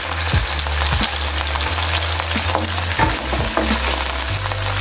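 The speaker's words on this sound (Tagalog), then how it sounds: "Lagyan ng mantika as usual. So konti lang kasi i-release na muna natin yung hipon." Live shrimp hitting hot oil in a pan, giving a steady loud sizzle and crackle throughout, close up with no talking.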